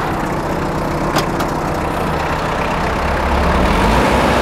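Kubota GT-5 mini tractor running with its power take-off engaged: a steady, close low engine rumble with a couple of faint clicks near the start, continuous throughout.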